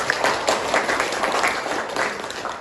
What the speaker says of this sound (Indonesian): Terima kasih Bani, tepuk tangan.